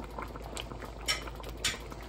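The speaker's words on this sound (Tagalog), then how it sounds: "Pakuloy lang natin siya." Ginisang tahong, mussels in a pot with a little added water, boil with a soft bubbling patter and a few brighter pops, quiet and close with no talking.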